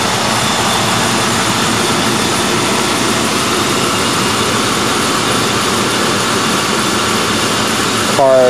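A 1995 Ford Crown Victoria's engine runs smoothly, a loud, constant broadband hum that holds steady without surges throughout.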